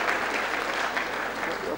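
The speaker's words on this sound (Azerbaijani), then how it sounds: "alqışlayın. Bir-bir." A concert audience in Baku claps in dense, steady applause for a performer, filling a short moment at fairly close range, with a voice faintly mixed in.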